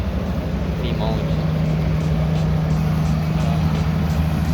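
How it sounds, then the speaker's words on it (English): A heavy truck engine rumbles loudly and steadily nearby, with a low droning hum filling the background throughout. "This truck is pretty loud."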